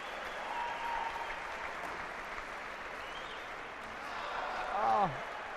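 Spectators at a 2004 Tournament of Champions squash match between Nicol and White break into sustained applause, a broad steady wash that swells near the end, with a commentator talking over it.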